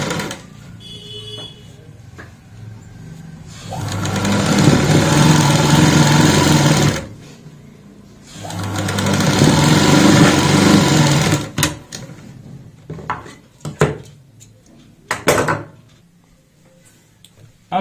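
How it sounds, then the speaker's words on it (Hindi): A sewing machine stitches lace onto a kurti neckline in two long, steady whirring runs, each a few seconds long. Pauses between them hold soft handling clicks and taps of the fabric and machine. "अब हम दूसरे निशान के ऊपर ऐसे रखेंगे और यहां पे लगाएंगे सिलाई।"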